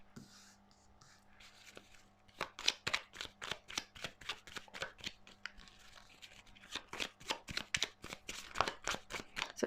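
Tarot cards being shuffled close up: a long run of quick, evenly paced riffling and slapping strokes, quiet at first and then steady, with no talk.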